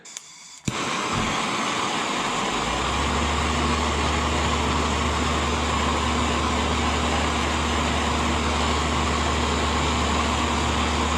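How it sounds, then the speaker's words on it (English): An air conditioner switches on with a short clunk, then runs as a steady, loud hum and whoosh of blowing air with a low drone underneath. "Sorry about the noise, my AC just kicked in."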